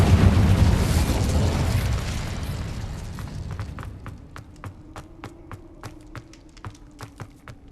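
An Incendio fire spell cast in Hogwarts Legacy erupts as a loud, roaring burst of flame. It fades over a few seconds into a string of sharp crackles and pops.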